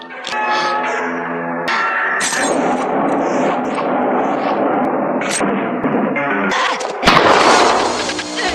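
Rapid gunfire from a Mithun Chakraborty Hindi action film scene mixes with dramatic soundtrack music, with sharp sudden bangs punctuating the loud, dense mix and a heavier crash near the end.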